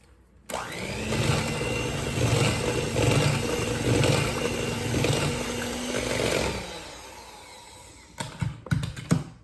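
An electric hand mixer whirs loudly and steadily through white cake batter for about six seconds, then stops, followed by a few close knocks and clatters of utensils against the bowl.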